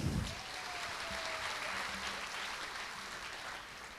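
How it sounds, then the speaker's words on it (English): An audience at a school annual day performance gives a round of applause for the choral singers, a broad, steady wash of clapping that stays even for several seconds with no talk over it. "Let's give a round of applause for our choral singers."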